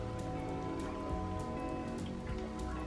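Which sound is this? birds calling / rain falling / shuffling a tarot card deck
rain falling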